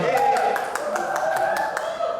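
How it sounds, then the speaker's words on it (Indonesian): A few sparse hand claps ring out at a church gathering, sharp isolated taps spaced through a busy background while a voice keeps talking over them. "Tepuk tangan dulu ya"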